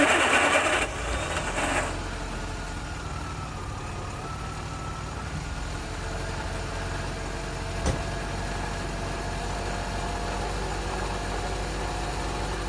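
A small 1985 Mini Metro car engine idles with a steady, low, rumbling hum that continues evenly throughout, with a brief faint clatter partway through.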